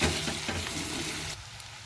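Garlic, ginger and green chilies hitting a pan of frying onions, a loud, dense sizzle that stays steady, then drops off sharply near the end as the pan quiets.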